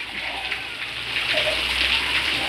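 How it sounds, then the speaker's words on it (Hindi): Heavy monsoon rain pours down steadily over a flooded village, with a continuous dense hiss of falling water and flowing runoff filling the background, no voices. "आज बहुत बारिश हो रहा है।"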